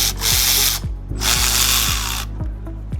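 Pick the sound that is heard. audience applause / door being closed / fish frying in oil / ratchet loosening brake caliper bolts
ratchet loosening brake caliper bolts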